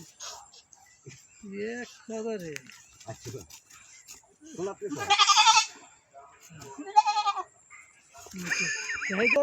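Goats bleat loudly several times, close by, amid people talking.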